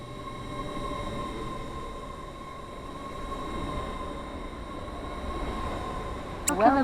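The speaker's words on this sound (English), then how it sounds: "The train now approaching platform 2 does not stop here." A train rumbles steadily through a station in the Roblox rail game SCR, a continuous loud rolling noise with a steady tone and a brief squeal near the end.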